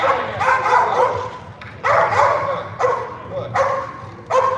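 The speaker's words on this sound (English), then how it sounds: "Get that dog out of here." A dog barks in repeated loud, close bursts, about five sharp barks with short gaps, during protection bitework training with a decoy.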